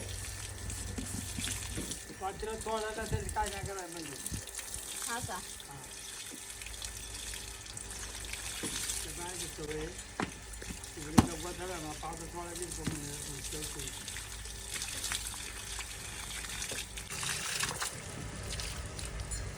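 Water runs steadily from a tap in a cowshed corner as two cows are brought over for bathing, with voices talking over the continuous flow.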